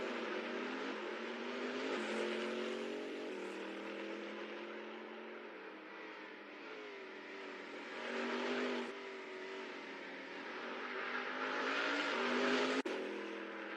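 Race cars in a virtual racing video game for a New Zealand SuperLap event, engines whining and droning continuously, with pitch rising and falling through gear changes and passes, plus a brief sharp click near the end.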